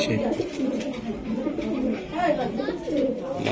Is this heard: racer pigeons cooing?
yes